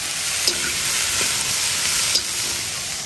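Ingredients fry with salt in a pan for fried rice, giving a loud, steady sizzle with a couple of sharp spatula knocks as they are stirred.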